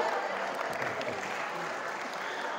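A school audience at an Isra' Mi'raj event claps for a student named Kaisar, a short burst of dense applause at steady volume with a few voices underneath.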